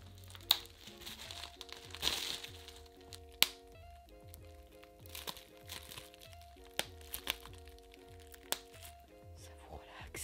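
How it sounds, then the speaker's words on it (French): Bubble wrap being popped while a parcel is unpacked, with scattered sharp pops and crinkling plastic over background music. "Qui ne kiffe pas péter les bulles du papier bulle? C'est vraiment trop satisfaisant."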